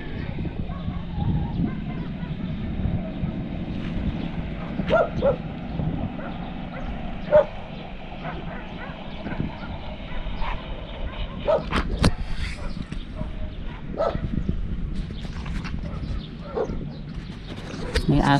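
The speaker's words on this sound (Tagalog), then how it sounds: "May aso." A dog barks a few times in the distance at a farm in the northern Philippine mountains, scattered short yips and barks over outdoor background noise with occasional voices.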